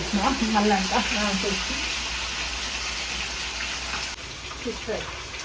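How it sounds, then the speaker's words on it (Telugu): Fish fries in a pan with a steady, broad sizzle throughout, while voices talk briefly over it at the start. "fish fry"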